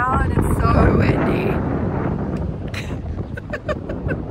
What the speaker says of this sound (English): We're in St. Helier's now and it's so windy.